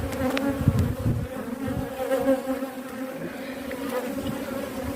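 Dense, steady buzzing of many honeybees close by at a hive, a continuous droning hum with individual bees whining past now and then.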